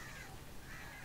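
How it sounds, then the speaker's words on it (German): A huge flock of crows in the Alan Wake video game caws in a dense, noisy mass, harsh calls blending into a constant loud wash with no voices over it. "das klingt doch nach einem riesen Vogelschwarm"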